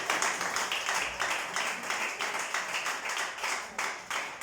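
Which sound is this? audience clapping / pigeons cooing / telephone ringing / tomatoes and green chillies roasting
audience clapping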